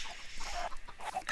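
Chickens in the video game Minecraft, several of them confined to one block, cluck in quick overlapping bursts at close range, with no talk.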